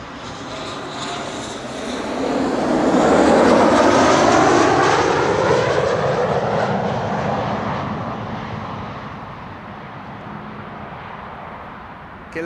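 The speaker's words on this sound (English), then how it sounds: "KLM flight 1352 arrived from Prague in the Czech Republic" A KLM airliner arriving from Prague passes at Amsterdam Schiphol, a loud engine roar that swells over a few seconds, peaks, then slowly fades as it moves away.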